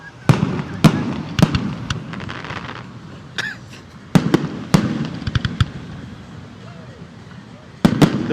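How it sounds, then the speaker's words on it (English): Fireworks burst overhead at Coney Island, a series of sharp, loud bangs and pops spaced irregularly in clusters, with people talking between the explosions. "The wind is drifting the fireworks right over us."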